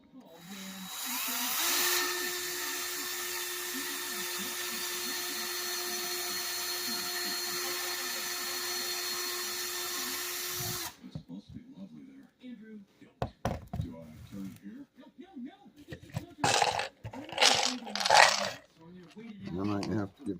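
A power drill driving screws into a camper door: a steady high whine runs for about ten seconds and then cuts off, followed by knocks, handling noise and short bursts of tool sound.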